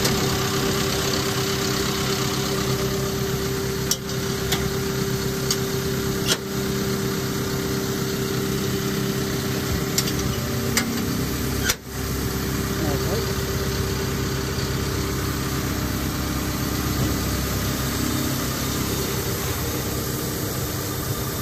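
A 2014 Caterpillar 312EL excavator's engine idles steadily with an even mid-pitched drone and a few faint knocks, continuous throughout with no talk over it.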